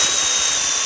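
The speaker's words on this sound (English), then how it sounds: "I'm going to drill out all the holes" A power drill bores out the holes of a standard plastic servo horn, giving a steady, continuous high-pitched whine that stays close and loud without pause.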